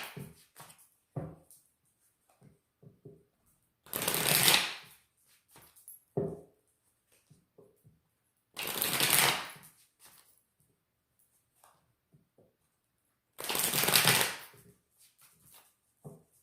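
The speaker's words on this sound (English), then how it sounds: "I'm going to now pull a few cards" Tarot and oracle cards are shuffled in three distinct bursts of riffling, each lasting about a second, separated by quiet stretches with faint taps and handling sounds, close and soft.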